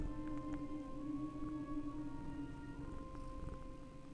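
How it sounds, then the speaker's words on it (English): A cat purrs softly and continuously up close, a low rhythmic rumble with faint rustling as it is stroked. "I'm petting him as hard as I can to make him purr."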